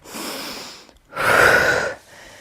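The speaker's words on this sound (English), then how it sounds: "Take an inhale, exhale, reach up, inhale, roll down" Two audible breaths during an exercise workout, a soft longer exhale followed by a brief pause and then a stronger, louder breath, close to the microphone with no talking.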